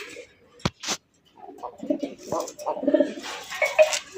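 A pair of Rajgolla pigeons coo in low, throaty repeated bursts close by, with a couple of sharp clicks early and some faint higher chatter behind.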